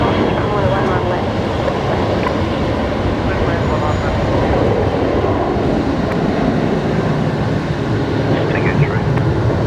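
A Jetstar airliner takes off at night from Brisbane Airport, runway 11 left, bound for Melbourne; a loud, continuous engine roar fills the whole stretch while a person talks briefly over it.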